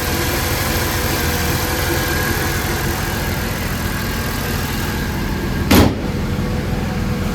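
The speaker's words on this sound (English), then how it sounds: "all you can hear is just injectors" A supercharged V6 Mercedes-AMG engine idles low and even while still warming up, with a light injector ticking running through it and one brief thump near the end.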